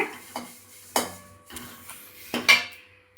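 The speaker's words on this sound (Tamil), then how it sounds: "நல்லா இந்த மாதிரி சிம்மில் வச்சு நல்லா வறுத்துக்கலாங்க" Drumstick flowers dry-roasting in a pan on a low flame, heard as a handful of close scraping and clattering spatula strokes against the metal pan in an irregular rhythm, with faint sizzle between them and no voices.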